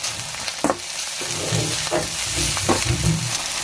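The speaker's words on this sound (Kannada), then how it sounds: "ಈಗ ಇದೆಲ್ಲ ಚಲೋ ಎಣ್ಣೆ ಒಳಗೆ ಫ್ರೈ ಹಾಕತ್ರಿ" Tomato, coriander leaves, salt and turmeric fry in hot oil, giving a loud, continuous sizzle with several sharp bursts and scraping stirs at irregular intervals, close by and with no talking.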